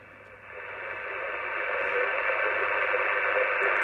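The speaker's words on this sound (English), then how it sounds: "I can hear someone on there, not very clear though." Yaesu FT290R radio receiving a faint signal on the 2 meter sideband: a steady hiss of noise that swells slightly louder after the first half second and holds, with no clear voice emerging.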